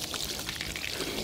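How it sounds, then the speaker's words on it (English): Ice water from a bucket pours over a person during an ALS Ice Bucket Challenge, a steady, close, continuous splashing gush with no talking. "Slowly pour it onto you"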